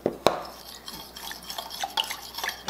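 A spoon scrapes and clinks against a pan while cornstarch is stirred into onions and round steak. The stirring is close and uneven, with a sharp knock near the start and soft wet sloshing throughout.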